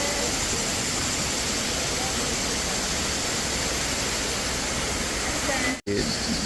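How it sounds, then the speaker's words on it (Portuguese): Broad, steady roar of rushing water from a chain of cascades and waterfalls in a Croatian national park, continuous and loud throughout with only a momentary break near the end. "É uma sucessão de cascatas e cachoeiras."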